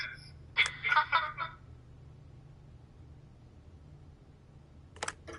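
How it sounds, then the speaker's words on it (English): An answering machine beep in The Wolf Among Us video game, a short, faint electronic tone near the end, following a burst of brighter tonal sound and a quiet background hum. "leave a message at the beep and we'll get back to you as soon as"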